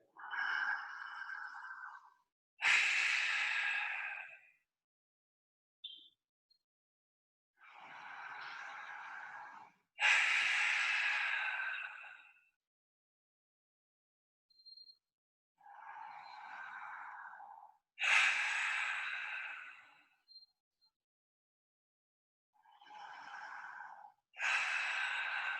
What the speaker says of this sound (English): Again, 5 deep breaths in this shape.